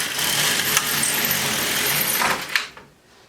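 An LK150 knitting machine carriage is pushed across a single row, giving a continuous close rattling, whirring slide that ends with a sharp click and then quiet.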